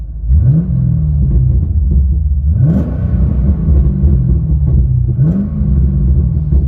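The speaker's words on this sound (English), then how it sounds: "this is how it sounds from inside. Let's give it a couple of revs." An HSV muscle car's V8 engine, heard from inside the cabin, blipped through three rising revs that fall back to a deep, heavy idle rumble, loud and close.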